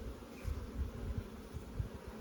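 Honey bees buzzing around a Buckfast hive, a steady low drone close by with a slightly pulsing rhythm, no voices.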